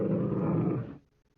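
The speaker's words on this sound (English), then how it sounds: "It freaking growls." A mounted brown bear head in a pipe-smoke-filled carpeted den lets out a deep, rumbling growl, loud and close, sustained for about a second before cutting off.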